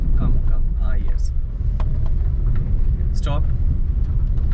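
A car engine hums low and steady at slow acceleration during a driving lesson, a continuous rumble running under an instructor's voice talking throughout.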